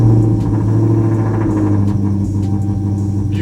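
The V8 of a Dodge Charger R/T with a 3400-stall converter idles after a cold start in a garage: a loud, steady, close rumble with no words.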